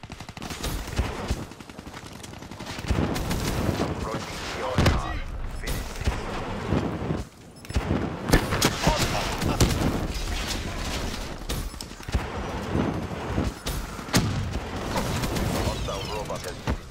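A first-person shooter ground war match produces dense, rapid bursts of gunfire and heavy booms that run almost without a break, loud and close, with voices heard intermittently underneath.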